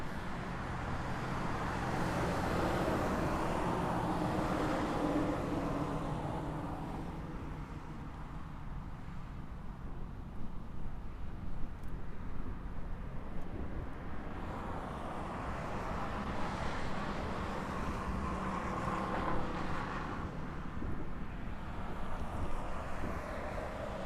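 A Hawaiian Airlines plane landing on the crossing runway at Honolulu airport, a steady distant jet roar that swells and eases over the whole stretch, mixed with broad traffic-like rumble and no talk.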